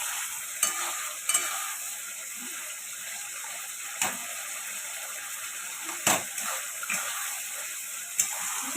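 Fish pieces added to a curry cooking in a pan give off a steady sizzle, with a few clinks of a utensil stirring now and then and no talk.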